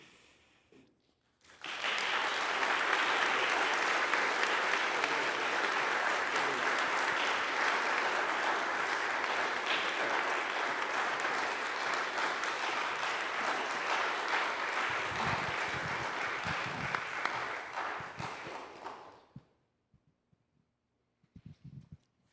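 An annual meeting crowd breaks into applause after a brief quiet moment, a steady wash of clapping holding loud for about fifteen seconds before tapering off to silence.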